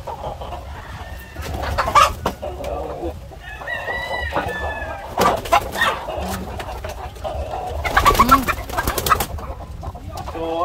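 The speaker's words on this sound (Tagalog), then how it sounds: "upgraded native chicken" Upgraded native chickens in a farm coop, with repeated clucking and cackling, a rooster crowing and wing flutters over steady background noise, close and busy throughout.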